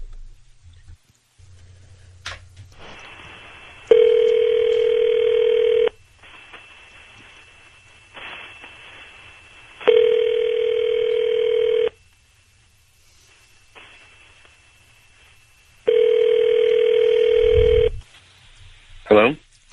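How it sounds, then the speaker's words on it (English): Outgoing call on a telephone line: touch-tone dialing followed by three long, loud electronic ringback tones spaced evenly with silent gaps, then quieter rings; no talk. "we're going to dial up your husband right now"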